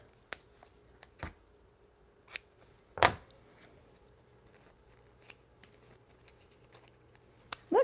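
Scissors trim collage paper for a mixed media journal page in a few separate snips and cuts, close and crisp against a quiet room, with no talking.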